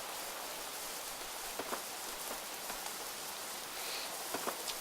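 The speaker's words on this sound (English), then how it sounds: "If it rains, it actually gets little droplets everywhere." Rain in the video game Craft the World, a steady dense hiss of falling drops with a few faint individual patters rising from it, constant and even throughout.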